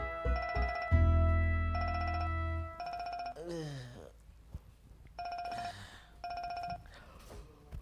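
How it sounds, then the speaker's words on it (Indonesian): An unanswered telephone rings in repeated bursts, bright electronic trills separated by short pauses, with a low hum under the first rings and brief voices between them. "Ini Ojak juga kagak diangkat teleponnya."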